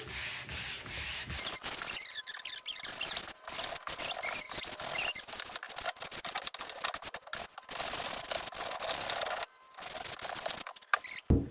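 A cabinet is sanded by hand with a sanding pad, rhythmic scratchy rubbing strokes close up with brief pauses between passes, no voices.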